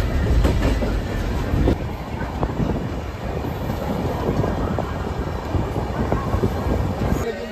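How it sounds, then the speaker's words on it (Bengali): A passenger train pulls out of a station, heard from inside a general compartment as a loud, continuous rumble with rattling wheels and clacking over the rails. "আর ট্রেন ছেড়ে দিল।"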